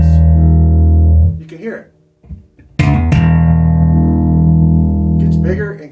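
Bass guitar, a 2023 Sadowsky SMX prototype hybrid P/J4 fitted with Nordstrand NP4-A and NJ4-SV pickups, with the blend rolled just past center toward the bridge pickup, playing loud sustained low notes that break briefly for a short spoken remark.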